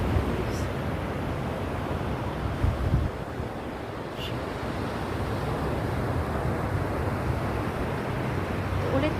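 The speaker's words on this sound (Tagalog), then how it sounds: "Ulit kami sa dagat." Surf and wind at a beach where Christmas is being celebrated, a steady broad wash of breaking waves with gusty wind buffeting the microphone throughout, fairly loud and continuous.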